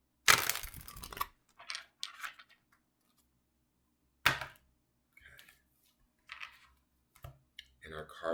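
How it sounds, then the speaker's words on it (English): Tarot cards being shuffled by hand come through as a few short papery riffles and soft clicks in a quiet room, a dense burst at the start followed by scattered lighter flicks. "I'm going to shuffle one more time."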